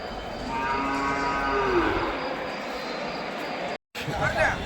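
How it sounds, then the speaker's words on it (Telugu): Cattle moo at a large livestock market in Hubli where goats and sheep are also sold. One drawn-out, fairly loud low call rises over a steady crowd murmur, with voices nearby. "ఆవులు చూస్తున్నారు కదా."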